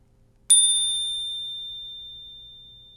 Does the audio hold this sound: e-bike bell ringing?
yes